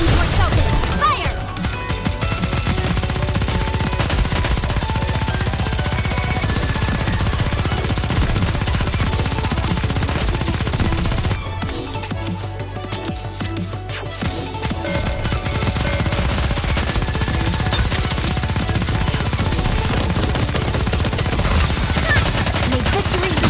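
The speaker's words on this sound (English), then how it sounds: "All guns were focused! Fire!" Dense, continuous barrage of gunfire from many guns at once in the game Nikke: Goddess of Victory, loud and sustained, with a brief dip partway before the volley resumes.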